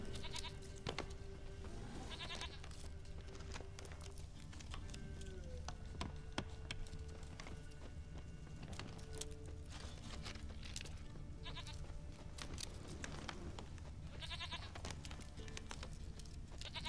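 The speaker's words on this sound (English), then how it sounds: "Where's this stupid goat at?" Goat bleating in The Witcher 3: Wild Hunt, several wavering bleats scattered over busy game ambience and music, moderately loud, without speech.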